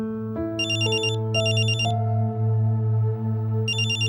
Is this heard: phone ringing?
yes